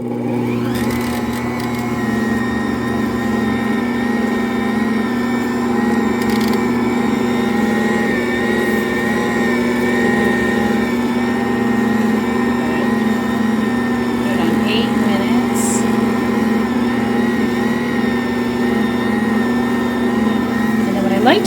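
Bread dough machine kneading, a continuous low motor hum with steady mechanical churning, fairly loud and unbroken throughout.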